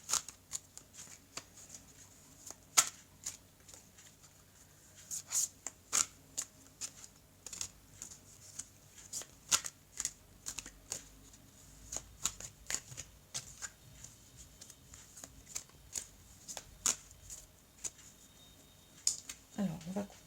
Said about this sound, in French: Alors, on va couper le jeu et on va donc recouvrir.